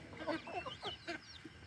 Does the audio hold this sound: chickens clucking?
yes